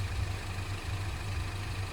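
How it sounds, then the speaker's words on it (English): A steady low idle from a Suzuki GS500 motorcycle engine with a slip-on exhaust and a spark fault, a continuous even rumble with no revving, heard alone. "To be fair, guys, that engine sounds good,"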